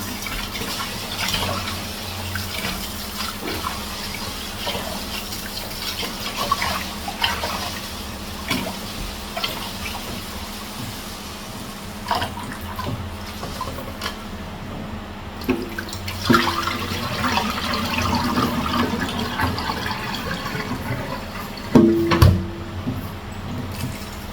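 Rice is washed under running tap water in a kitchen while preparing stir-fried chicken and vegetables, a steady watery rush with sloshing, scattered clinks and a few louder knocks of handling near the end.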